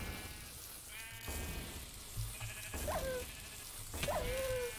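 Sheep in Minecraft with the Thaumcraft mod bleat twice, two distinct wavering calls near the end, moderately close over a quiet background with faint earlier game sounds.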